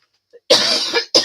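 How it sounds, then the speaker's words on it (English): A person coughs hard at close range, one long harsh cough followed by a second short burst after a brief breath, in an otherwise silent room. "This cough is very annoying and it is just hanging around."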